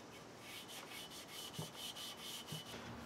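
A wooden bench under restoration is sanded by hand with quick, rhythmic back-and-forth rubbing strokes, close and steady, with no talking.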